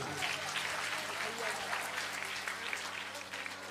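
Sustained, dense clapping from a seated audience at a Ram katha celebrating Ram's birth, steady and fairly distant throughout.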